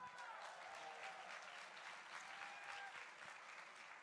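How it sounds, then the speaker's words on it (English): An audience at a Sadhguru Save Soil event in Jordan applauds steadily, a dense, sustained clapping from a large crowd at moderate distance with no break. "Let me hear a big round of applause."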